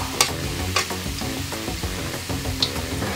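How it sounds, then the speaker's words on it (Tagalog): Thinly sliced garlic fries in hot oil, giving a steady close sizzle broken by a few sharp scraping clicks from stirring, with no voices. "Naghiwa ako ng bawang na maninipis. Hiniwa natin sa maninipis at ipiprito muna natin."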